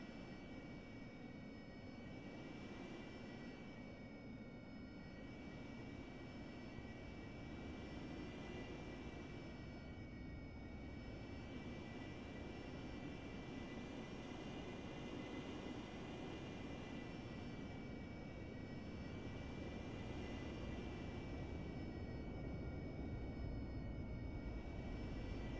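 A military jet taxis in a flight simulator game, its engine a steady, loud whine with a constant roar beneath, unbroken for the whole stretch.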